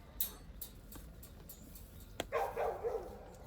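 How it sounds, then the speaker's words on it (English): A farm dog barks a few short, fairly distant yips, followed by a louder, longer bark near the end, with no talking. "I wish Birdie would stop barking because it's so annoying"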